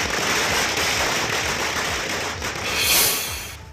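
Fireworks set off in celebration after a chief minister's cabinet swearing-in in India crackle as a dense, continuous outdoor rattle of small bursts, fairly loud, swelling near the end.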